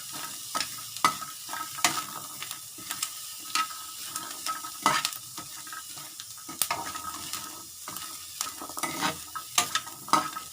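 Fermented fish and mackerel chili paste is dry-roasted in a pan, with intermittent scraping, tapping and clinking of a utensil stirring it, fairly quiet and close and without talk.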